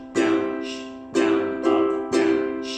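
A ukulele plays a strumming pattern with muted chucks between ringing strums, four clear hits in an even rhythm, close and loud with no talk.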